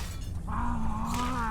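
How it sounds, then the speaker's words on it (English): Glass shatters as tree branches break through a window, a brief crash blended with a low roaring tone in a horror movie scene, fairly faint and short. "Clayton's branches break through the glass and stab her to death"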